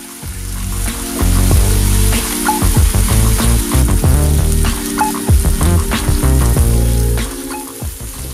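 A1 sauce, Better Than Bouillon and Worcestershire sauce sizzle loudly in a hot pan as they are stirred together, with a steady crackling fry and scraping stirs throughout.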